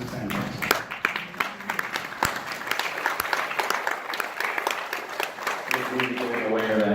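An audience at an evening talk gives moderate applause, scattered claps mixing with crowd murmur and a few voices, the clapping fairly close but not very loud.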